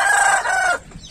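A rooster crows loudly and close by in one sustained cock-a-doodle-doo lasting most of a second, then breaks off into quiet farmyard background.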